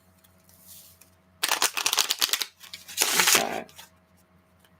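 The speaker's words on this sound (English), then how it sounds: "It does take me just a minute to really get these cards shuffled." Tarot cards shuffled by hand in two close bursts of riffling, flapping rustle separated by a short pause, with a brief quiet spoken word before them.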